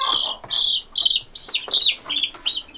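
Baby chicks peep in a quick series of about eight high, thin chirps that come in short bursts with brief gaps. They sound close and clear, with no talking.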